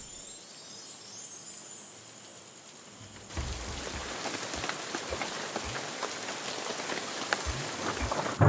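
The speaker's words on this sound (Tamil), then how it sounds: "என்ன மழை இல்ல புயல் வரும்னு தோணுது." Steady rain falls at night, a soft hiss that grows denser and louder partway through, with scattered heavier drops and low thumps pattering on a surface; no one speaks.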